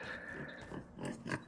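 Pigs grunt in a Skyrim farm animals mod, a few short, soft snuffling grunts close by over a faint steady background tone.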